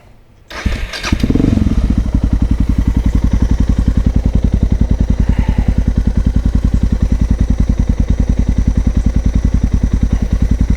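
A dual sport motorcycle fitted with a DG RST exhaust starts up, then runs with the choke off in a steady, loud, close, rapid idle thump that continues alone to the end.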